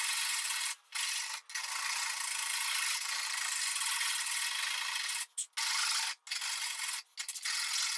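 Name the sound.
rasps shaping a wooden banjo neck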